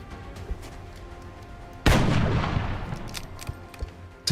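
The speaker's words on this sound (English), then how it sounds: "Now, 2 shots to get rid of the sniper." Gunfire aimed at a sniper in the XCOM video game: a single sharp, loud shot crack with a rumbling decay that fades over a couple of seconds, preceded by quiet game ambience.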